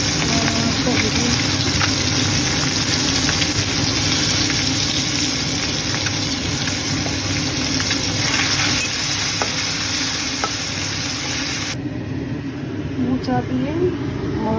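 Bay leaf and ginger sizzle steadily in hot oil in a pan for a mola fish dish with banana flower. The frying crackles loudly throughout, with stirring noises and a person talking over it.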